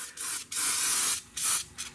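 Several short hissing bursts of aerosol rust penetrant sprayed onto the rear brakes of a Ford Escape, close and loud, separated by brief pauses.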